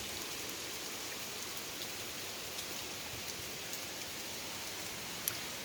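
Hurricane rain from the side storms of Dorian pours down in a steady, dense hiss of drops drumming on surfaces, with a single sharper tap near the end.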